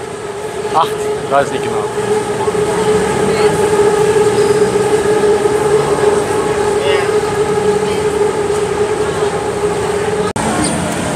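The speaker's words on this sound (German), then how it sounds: "Oben fährt die BTS." The BTS Skytrain in Bangkok running overhead, a steady loud rumble and whine of the elevated train that carries on throughout, with city bustle around and someone briefly speaking under it.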